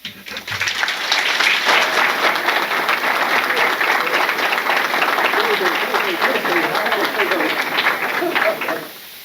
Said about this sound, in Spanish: Ese aplauso fue de agradecimiento a las palabras del doctor Roque Santos.